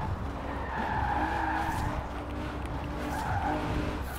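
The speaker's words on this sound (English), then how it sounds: "I like the sound of the car from outside" A racing car engine in the video game Forza Horizon 4 drones steadily while tires squeal and skid continuously, loud and close, with no voices over it.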